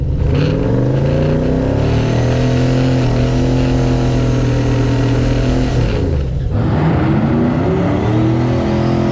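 A race car engine roars loud and steady at high revs during an on-track pass, with a sharp lift and pitch drop near the end before revving again; a turbo junkyard 6.0 LS Mustang is among the cars on the track.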